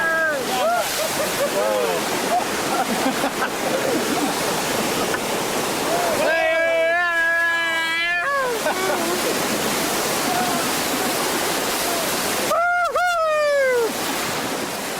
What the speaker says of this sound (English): head for the biggest waves we could find